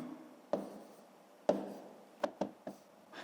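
Numbers are handwritten with a pen on paper: a handful of sharp, close taps and short scratches at irregular intervals over a quiet background.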